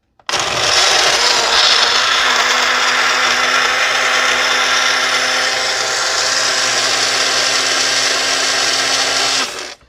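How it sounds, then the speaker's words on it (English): A countertop blender runs continuously on a frozen fruit smoothie, a loud, dense whirring roar with a steady motor whine, starting abruptly and stopping cleanly after about nine seconds. "Stick it in the blender."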